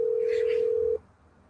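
A telephone tone while calling someone: one steady, clean electronic tone holds for about a second, then cuts off abruptly into quiet line hiss.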